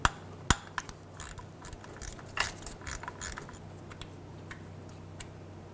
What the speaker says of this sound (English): Using a 10mm socket, we're going to remove the bolt out of the vehicle speed sensor.